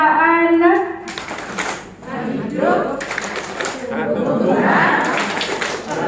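A group's rhythmic clapping chant at an Indonesian child-friendly school session, with bursts of patterned hand claps mixed with loud voices chanting and calling out together.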